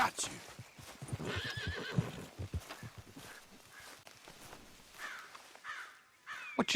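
Horses whinny and hooves clip-clop on a frontier trail in Red Dead Redemption II, with several close neighs and steady hoofbeats, crows cawing nearby and someone speaking over parts of it.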